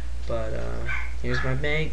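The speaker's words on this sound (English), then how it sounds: "That's just my dog freaking out because my dad is home after a little while." A dog barks and yips excitedly in the background of a house while a person keeps talking over it in the foreground.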